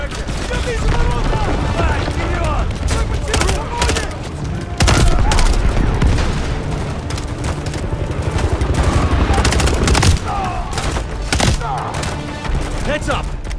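Dense automatic and rapid gunfire from a Call of Duty Modern Warfare 3 battle, bursts overlapping continuously with booming impacts, loud and close, with a game voice speaking intermittently over the shooting.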